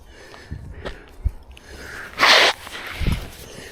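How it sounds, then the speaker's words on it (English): Someone blows their nose in a short, sharp honking burst, with scattered sniffs, snorts and rustling before and after. "Blow my nose again."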